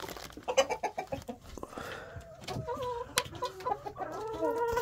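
Chickens cluck and murmur inside a backyard coop bedded with wood shavings on a sunny day, a steady close chorus of soft clucks and short calls with no talking.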